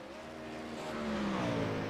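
Race car engine at a short-track stock car race, a steady loud drone with shifting pitch as it drops into second gear, engine note sweeping and settling, no talk.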